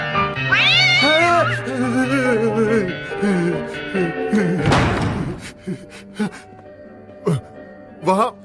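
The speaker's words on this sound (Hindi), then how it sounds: "बस एक छोटी सी बिल्ली है" A small cat meows in a series of rising, wavering cries during a tense horror-film scene, mixed with voices talking and a few sharp thumps near the end.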